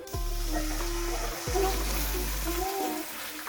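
Lentils tipped into hot oil with whole cumin seeds in a pan for a dal and greens dish, a steady sizzling hiss with watery bubbling and a couple of stirring knocks, close up with no talk.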